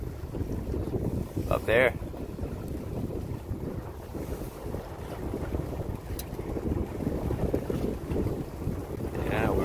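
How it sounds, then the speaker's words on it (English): Steady wind buffeting the microphone aboard a sailboat sailing the St. Lawrence Seaway toward Kingston, with water rushing along the hull and a brief spoken remark. "Finally got a little wind. We are sailing into Kingston."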